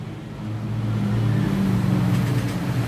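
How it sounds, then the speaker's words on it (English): A Honda PCX 150 scooter fitted with an OEM switch set starts up; its engine catches within half a second and settles into a steady, close, mid-pitched idle hum with no talking. "engine start."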